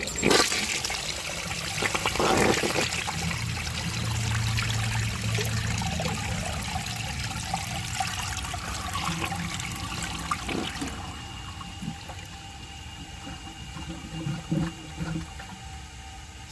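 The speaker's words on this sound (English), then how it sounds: "I'm gonna see with a second flush if it can pass that now." A 1970 Montgomery Ward toilet flushes with a loud rushing gush that settles into trickling and gurgling refill water, close up and without talk.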